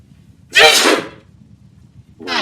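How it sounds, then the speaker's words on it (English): One loud cartoon sneeze effect from an animation bursts out early, then a brief second vocal sound begins near the end. "Nice, Ron. I sneezed."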